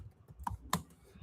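Two quick keystrokes on a computer keyboard, crisp and close, spaced a fraction of a second apart against a quiet room.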